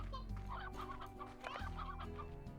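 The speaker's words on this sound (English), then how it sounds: "Another rooster." A rooster in the farming game Slime Rancher clucks in a quick run of close, fairly soft calls, with a layer of steady game background sound running underneath.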